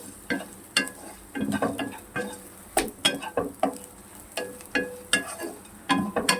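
Bitter gourd pieces coated in powder fry in oil, a low sizzle broken by frequent irregular stirring clatters of a utensil against the pan, close and without talk.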